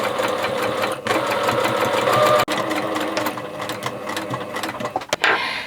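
A sewing machine stitches the tie of a wrap dress, running in a steady mechanical hum with a rapid needle rattle. It stops and starts briefly near the end, close up and alone.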